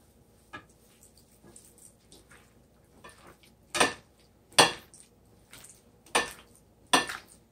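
A fork or whisk clinks against a bowl while an eight-egg frittata mixture with cayenne, ground turkey and broccoli florets is mixed together: a few soft taps, then five sharp, fairly loud knocks spaced about a second apart.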